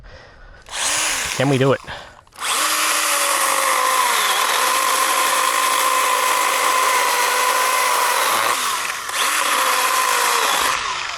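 Small battery-powered chainsaw cutting through thick wood outdoors, a loud sustained whine running for several seconds with a brief dip, after a short burst at the start; a voice speaks briefly before the cut.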